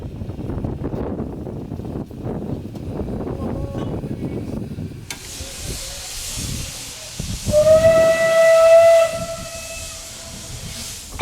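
Red 1908 Isle of Man steam locomotive No. 12 departs with a loud, steady hiss of steam, then a sharp, sustained high whistle blast for a couple of seconds, with rumbling movement beneath.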